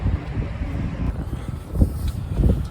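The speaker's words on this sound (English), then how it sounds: "It is, however, very windy, quite cold" Strong, cold wind gusting through a city street, heavy low rumbling buffets against the microphone that swell and ebb throughout.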